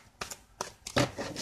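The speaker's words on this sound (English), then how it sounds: "One more shuffle for my Libras." Tarot cards being shuffled by hand make a few quick, close papery riffles and slaps in a short burst, fairly quiet and with no talking.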